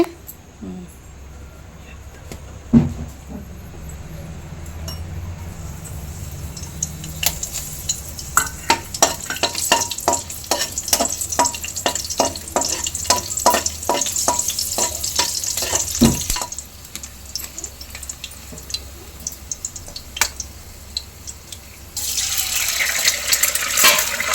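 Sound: stir-frying fried rice in a pan

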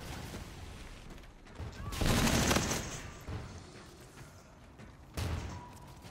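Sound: hip-fire gunfire in video game Call of Duty: Infinite Warfare

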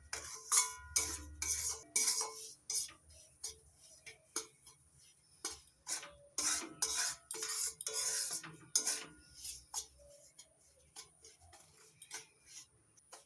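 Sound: dry-roasting semolina (suji) in a pan, stirring

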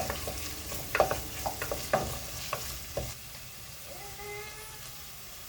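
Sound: onions and green chillies sautéing in a pan

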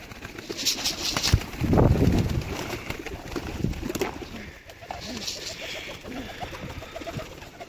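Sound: pigeons cooing and flapping after hawk attack

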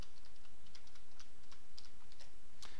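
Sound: typing on a computer keyboard

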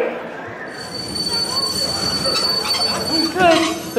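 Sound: train sound effect, Polar Express

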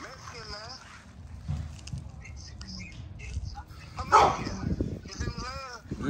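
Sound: puppy barking

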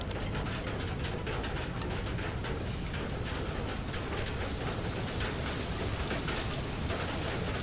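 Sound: rain in the video game FAR: Lone Sail

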